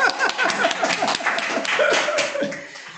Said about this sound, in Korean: 아, 박수 한번 치고 해야 되죠?